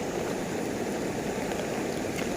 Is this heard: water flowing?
yes